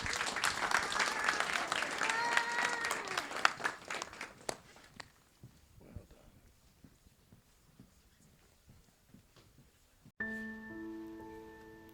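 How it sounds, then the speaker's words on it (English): Documentary screening audience applauding a cohort of filmmakers, a dense crowd clapping that dominates the first few seconds, then thins to scattered claps and fades out before a musical tone enters. "please give another round of applause to this year's cohort"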